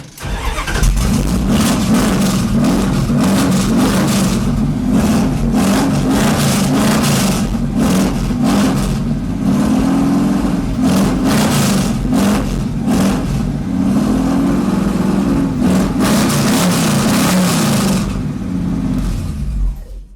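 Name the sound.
1968 Dodge Dart engine running and revving after new fuel pump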